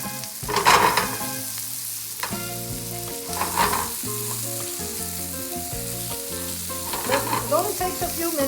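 Organic BC corn kernels fry in a pan with salt and pepper, a steady sizzle running under background music, with a few louder stirring bursts.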